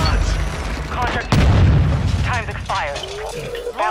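A thrown Dread Charge explodes in a Call of Duty Warzone match on Ashika Island, one loud close boom with a rumbling tail, while voices talk over it.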